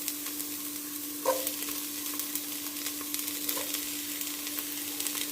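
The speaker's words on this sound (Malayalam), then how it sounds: "ഞാൻ ഉള്ളി അരിഞ്ഞിട്ടുണ്ട് ഉള്ളി ഇട്ട് കൊടുക്കാം" Chopped onion dropped into a hot frying pan, a steady soft sizzle with a couple of faint stirring knocks, close but quiet, with a constant hum underneath and no talking.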